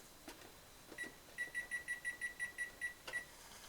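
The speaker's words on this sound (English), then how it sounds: "I'm going to set my timer for 10 minutes." Kitchen timer being set while baking a lemon cheesecake tart, a quiet run of about a dozen short, evenly spaced electronic beeps, with a few light clicks and taps before and after.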